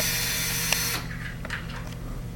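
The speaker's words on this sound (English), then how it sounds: "drill your pilot hole into the lead," A power drill bores a pilot hole into the red positive current-sense lead on a battery post. The motor whirs loudly and steadily for about a second, then gives way to quieter scraping and handling noises.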